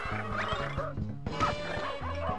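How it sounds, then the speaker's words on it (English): A cartoon dog in the Tom and Jerry in Fists of Furry video game barks in quick, repeated yips and bow-wows over bouncy game music. "It's a dog."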